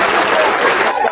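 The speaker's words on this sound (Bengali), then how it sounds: "তো সবাই একটা হাততালি হয়ে যায় আমাদের প্রতিযোগীর জন্য" Village crowd at an Eid rural games event clapping for soap-rubbing contestants, a brief burst of dense, fairly loud outdoor applause that tapers slightly at the end.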